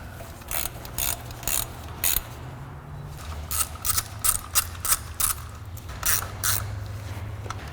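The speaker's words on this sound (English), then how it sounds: "Super important to remember to tighten ground connections." Ratchet cranking on a ground connection bolt of a 2004 Acura TL 3.2L engine, sounding as bursts of quick close clicks in several rhythmic runs over a low background hum, with no talking.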